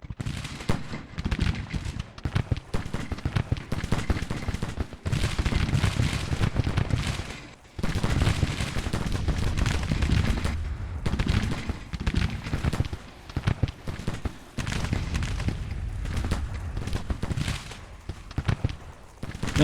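Cannon and gunfire from 12-pounder and 24-pounder artillery in Grand Tactician: The Civil War rattle as dense, continuous rolling volleys with sharper bursts throughout, loud and without talk.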